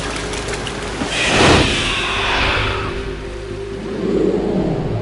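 Craft running across water in Metal Gear Solid 2, a broad rushing whoosh swelling near the middle and fading into a sustained wash of spray and engine rumble, with no voices.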